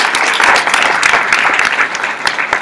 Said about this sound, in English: So I'm going to ask everyone to give them a round of applause.